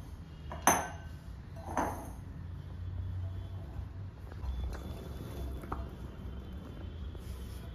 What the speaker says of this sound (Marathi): आता या बाउल मध्ये सगळी कैरी घेते.